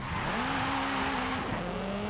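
Racing game engine sound of a 2018 Honda Civic Type R in Forza Horizon 5, a steady loud revving drone with a rising then dropping pitch as gears shift, tire squeal blending in, with no talk.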